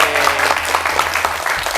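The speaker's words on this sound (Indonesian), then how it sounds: "Tepuk tangan dong buat Areto." A brief burst of dense clapping from a small group gathered for a podcast recording fills the short moment, loud and close, with no pause in the applause.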